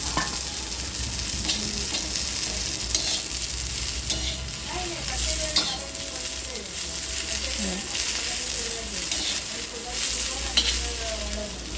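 Cluster beans (guar) fry in oil with salt in a pan, giving a constant sizzling hiss with repeated scraping and clattering from a spatula as they are stirred.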